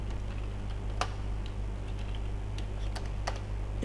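HTML code is typed on a computer keyboard in sparse, irregular key clicks over a steady low electrical hum.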